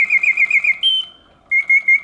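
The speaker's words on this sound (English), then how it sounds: "So the bird sings with full voice" Vintage Reuge singing bird cage automaton producing mechanical bird song, a run of quick warbling chirps, a sustained high whistle, a brief pause, then more rapid trills, close and clear with no talk.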